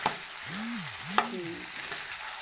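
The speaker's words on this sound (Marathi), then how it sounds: "तसं छोक लावायचा तडका" Spices sizzle and crackle in hot refined oil for a tempering, a steady frying hiss with a few sharp pops, close by and without talking.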